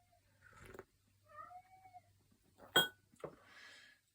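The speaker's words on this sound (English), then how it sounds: "that is Monty, the cat that's a pain in the butt" An indoor house cat meows and caterwauls in a string of drawn-out, wavering cries and sharper yowls. They are close and fairly loud, with short pauses in between and no talking over them.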